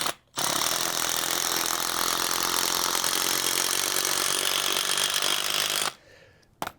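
A gasoline power tool drives a bolt into the ground at an off-grid site, running as a loud, steady, harsh engine roar for several seconds before cutting off abruptly, then a brief faint rattle.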